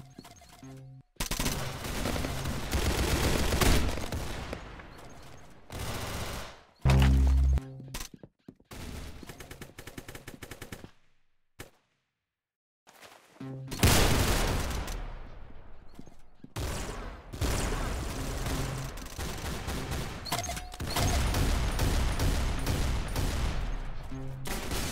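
Roblox gunfire comes in long, dense, loud bursts of rapid shots, like fusillades and machine-gun fire, broken by brief gaps and one short silence.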